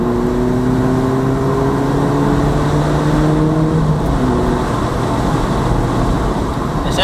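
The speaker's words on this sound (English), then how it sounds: "That's quite a good first gear noise, to be fair." A Mazda MX5 pulls away hard in first gear with a steady, loud four-cylinder exhaust note whose pitch climbs, then eases and shifts partway through, over continuous road and wind rumble.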